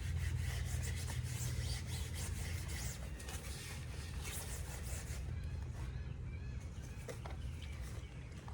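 The bottom of an object is rubbed and scrubbed clean before its tiny holes are patched with Flex glue. The rasping strokes are close and continuous, fading softer partway through, with faint bird chirps in the background.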